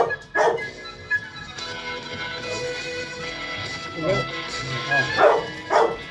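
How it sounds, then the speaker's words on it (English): A dog barks a few sharp times, indoors and fairly close, with people talking over and between the barks. "Sorry about the dog."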